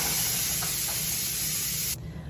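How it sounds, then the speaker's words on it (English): A Pampered Chef multi cooker vents its pressure through a manual steam release, a loud, steady rushing hiss that holds for about two seconds and then cuts off abruptly. "I'm going to manually release the steam now."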